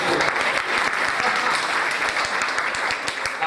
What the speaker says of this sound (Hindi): अच्छा लगा हो तो एक बार ताली बजाएंगे।